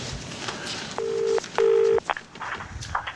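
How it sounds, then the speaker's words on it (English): Telephone keypad tones beep as a number is dialled for a call. Two clear, separate beeps sit close together against quiet room noise, with faint rustling and movement around them. "So, I'm gonna make some phone calls."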